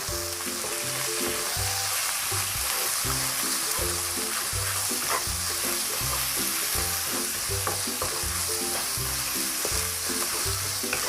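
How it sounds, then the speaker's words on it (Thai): Minced pork stir-fried with ginger and garlic hisses loudly and steadily in a hot pan, with spatula scraping throughout and a soft, regular low rhythmic pulse running underneath. "แล้วเราก็จะผัดหมูสับนะคะคลุกกับตัวขิงของเราเลยค่"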